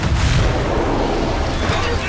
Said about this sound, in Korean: 마그네슘에 불이 옮겨 붙으며 백색 불꽃이 일어나고 다이너마이트급 엄청난 폭발이 발생합니다